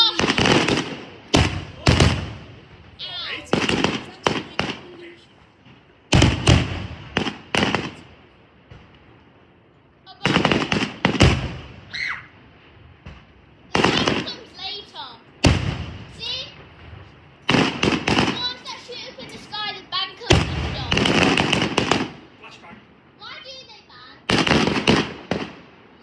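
Adult consumer fireworks go off as a run of loud, sharp bangs and crackling bursts, some in rapid clusters, separated by quieter gaps where people talk and react.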